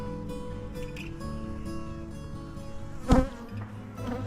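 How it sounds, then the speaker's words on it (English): Honey bees fly at hive entrances in a bee yard on a mild spring day, a steady close buzzing drone of many wings with individual bees passing near, and a brief louder swell about three seconds in. "We'll take the traditional walk out to the bee yard, show you the front entrances. They're flying."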